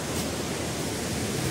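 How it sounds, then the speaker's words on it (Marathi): Bhivtas waterfall in Surgana pouring forcefully, a steady, dense roar of rushing water that holds constant for the whole stretch with no voices over it. "आपल्याला भिवतास धबधबा किती जोराने वाहतोय"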